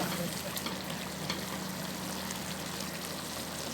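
Partly fried potatoes and carrots sizzle in a pan for chicken minudo, giving a dense, steady, close frying hiss that stays even throughout with no clear talking over it.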